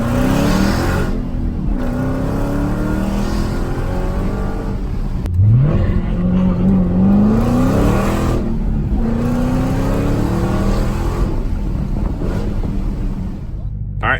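A 707-horsepower Dodge Challenger Hellcat with street suspension drives and accelerates, its engine note climbing and shifting through several rising sweeps. The loud, close engine runs throughout, with a sharp surge partway through.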